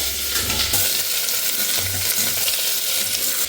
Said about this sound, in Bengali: সব সবজিগুলো এবার দিয়ে দিচ্ছি একটু ভাজা ভাজা করে নেবো সবগুলোই